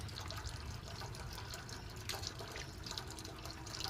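Meat being washed under running water, a continuous splashing stream with gurgles and drips, close and steady throughout.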